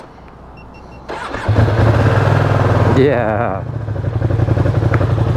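A Ducati Streetfighter V2 motorcycle engine cranks and catches after about a second, then settles into a loud, close, lumpy idle with a short revving rise; a voice briefly speaks over it.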